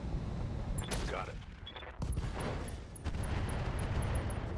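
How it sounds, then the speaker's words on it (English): Thumper artillery in the RogueTech mech game fires in heavy, booming bursts over a dense rumbling battle din, with sharp impacts around two and three seconds and high ticking interface tones. "So I want to fire the Thumper Artillery right here."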